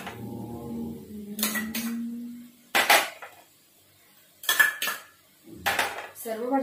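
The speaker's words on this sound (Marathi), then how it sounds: "आता आपण याच्यात सर्व कलरच्या सिमला मिरच्या टाकणार आहोत।" Colourful bell peppers tipped into a pan and stirred with a metal utensil: a few separate bursts of clattering scrapes and clinks against the pan, with faint sizzling between them.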